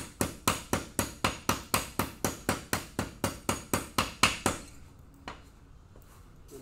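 A blacksmith's hammer peen strikes hot metal held in a vise, making a fast, steady run of about seventeen ringing metallic blows, then a single softer knock after a pause, with no voices over them.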